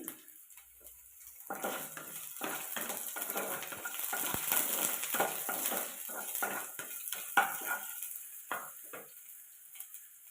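Chopped ginger sizzles and fries in a pan while a utensil stirs it, giving a steady crackling hiss broken by light metallic clinks and scrapes, close up and without speech.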